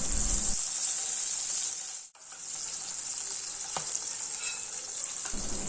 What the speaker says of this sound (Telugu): ఇలా మధ్య మధ్యలో అటు ఇటు తిప్పుకుంటూ వీటిని ఫ్రై చేసుకోవాలి.